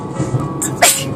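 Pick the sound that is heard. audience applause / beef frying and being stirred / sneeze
sneeze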